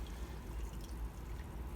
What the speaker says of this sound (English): So we're going to fill the bucket back up to the marks we made